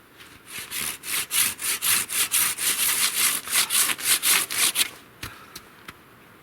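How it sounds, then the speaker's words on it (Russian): A Japanese hand saw cuts through a small piece of wood kindling in about a dozen quick, even strokes, followed by a few light knocks as it finishes. "Пильну одну штучку на щепке."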